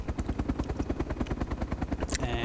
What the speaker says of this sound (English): if you pull up on the rotor pitch, the helicopter will go up like that